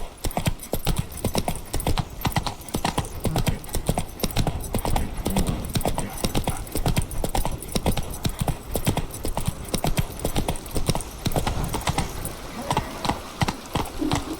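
A horse gallops in The Witcher 3 video game, quick rhythmic hoof clops repeating steadily and close for the whole stretch, with faint background sound beneath.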